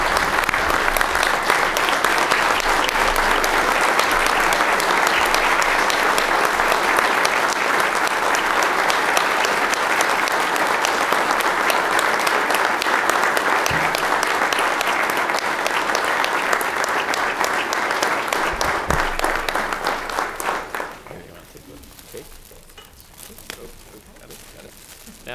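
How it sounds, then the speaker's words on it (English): An audience at a village board meeting applauding for a 100th birthday, sustained loud clapping for about twenty seconds before dying away into quiet room noise. "So if you could all join me in giving a rousing applause to Anna on her 100th birthday."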